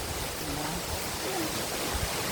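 Rushing water at Tumalog waterfall, a steady broadband roar of falling water close by, with faint voices barely under the constant wash.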